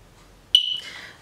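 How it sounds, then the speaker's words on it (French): Single short high-pitched electronic chirp from a smoke detector signalling a low battery, sharp and fairly close, followed by a brief fainter tail of noise, with quiet room background before it. "Un bip très bref toutes les 40 secondes. Oui, si la pile est faible."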